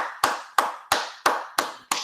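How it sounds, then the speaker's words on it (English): Single person clapping at a virtual high school fair, six slow, evenly spaced sharp claps, close and isolated with no crowd. "let's give them a big round of applause"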